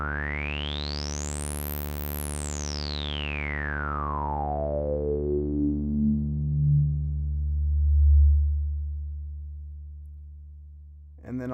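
Reason Subtractor synth plays a sustained tone while its filter resonance is raised to three quarters, a bright resonant peak sweeping up high and then gliding back down into the low end, loud and solo without voices.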